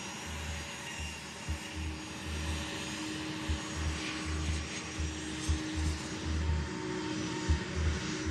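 A-10 Thunderbolt jet aircraft engines give a steady, faint distant roar and drone, with low rumbling thumps underneath and no voices.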